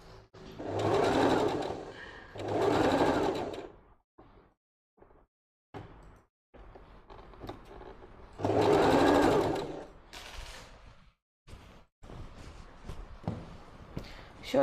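A PAF sewing machine stitching a summer dress runs in three loud, close bursts of fast, even needle chatter, separated by quiet gaps with handling clicks and fabric movement.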